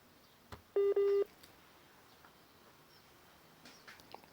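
Telephone keypad tones on a phone call whose signal cuts out: two short, loud electronic tone bursts back to back, then near silence with faint clicks.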